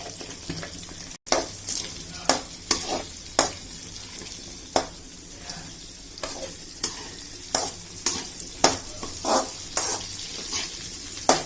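Small onions with turmeric fry in a pan under a steady sizzle, broken by regular scraping strokes of a spatula roughly once a second. The sound is close and clear, with no voices.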